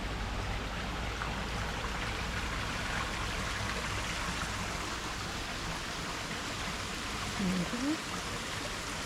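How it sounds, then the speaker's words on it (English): Steady broadband rush of running water, like a small stream trickling nearby into Lac de Kruth in autumn, continuous and even with no voices. "And we've got a water source."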